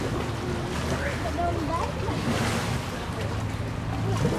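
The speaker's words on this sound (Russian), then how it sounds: "Думала, там уже волны вон какие." Water waves sloshing in a small backyard pool, a continuous rushing wash with wind noise on the microphone and a voice talking faintly in the background.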